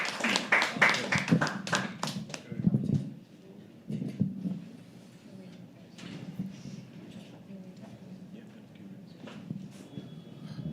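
Poetry open mic audience at The Habitat clapping in a dense burst of applause for the next performer. It is loudest over the first few seconds, then thins to scattered claps and murmuring under a low room hum.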